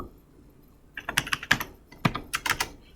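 Python code being typed on a computer keyboard: after a second of near quiet, close, crisp bursts of keystrokes clatter in quick uneven clusters, with no talking.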